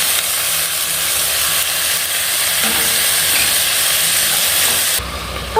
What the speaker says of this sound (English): Let's start by browning our ground beef in a hot Dutch oven with a little bit of olive oil